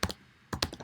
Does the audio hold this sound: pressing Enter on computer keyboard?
yes